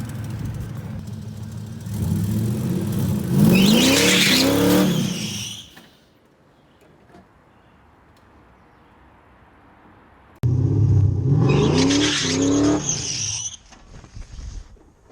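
Car engine revving hard during a burnout attempt on ramps, two loud rising bursts separated by a quiet pause, close and alone without talking.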